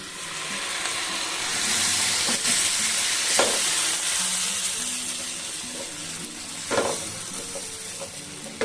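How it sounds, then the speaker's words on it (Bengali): Paneer masala with sugar and a cashew, raisin and melon seed paste sizzles in a pan over low flame, a dense, loud hiss broken by occasional spatula scrapes and taps. "একদম লো ফ্লেমে এটাকে একটুখানি মোটামুটি 1 মিনিট মতো কষিয়ে নিতে হবে"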